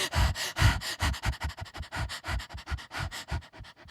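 A person imitates a stressed dog panting, giving quick, rhythmic, breathy huffs close to the microphone, about a dozen short pants in steady succession with no words.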